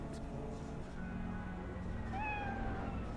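A cat meows in the video game Cyberpunk 2077, one clear rising-falling meow late in the clip over a low game ambience hum.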